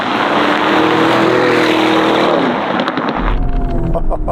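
Black Lamborghini Urus S with a Novitec Esteso widebody kit, its engine roaring loud and steady at high revs before easing off and settling into a lower, rumbling tone.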